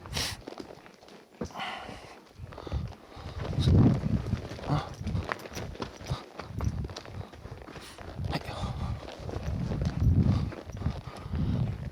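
Horse hooves clip-clop at a steady walk under a rider on a trail, the close, rhythmic thuds running throughout while people talk over them.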